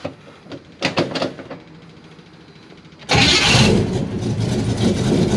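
A few clicks and knocks, then a 383 V8 airboat engine cranks and roars to life abruptly, running loud and steady with a rough, throaty rumble.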